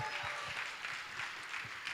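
An audience at a startup demo day summit claps steadily, a faint, distant, continuous patter of many hands filling the room.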